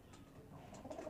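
Pigeons resting in a small loft coo softly and faintly, with a few low murmuring calls over quiet room background.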